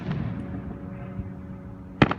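Fourth of July fireworks burst in the distance behind buildings, with a low rumbling background and a few dull thuds. One sharp, loud bang stands out near the end.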